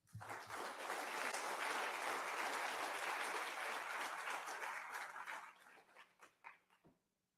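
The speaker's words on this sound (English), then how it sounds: "Let's give Emma another round of applause." Sustained applause from an audience after a speech at an international human rights summit opening session, loud and steady for about five seconds before thinning into scattered claps that fade out.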